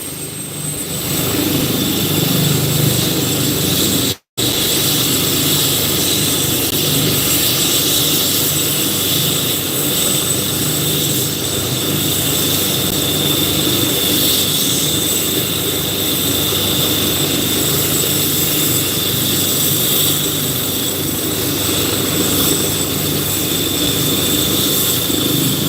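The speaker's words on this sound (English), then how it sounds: "The helicopter is heading now to Ottawa." A medical transport helicopter bound for Ottawa revs up and lifts off, a loud, steady rotor and turbine roar holding close and constant throughout, broken once by a brief dropout.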